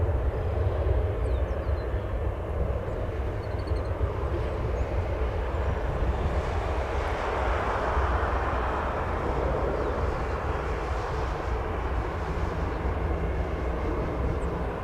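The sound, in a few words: aircraft taxiing at O'Hare Airport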